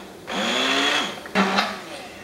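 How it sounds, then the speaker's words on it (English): An electric hand mixer whirring through cooked parsnips for mashing, two short bursts of motor whine a second apart, starting and stopping abruptly, close and fairly loud. "So I'm going to use my little hand mixer here."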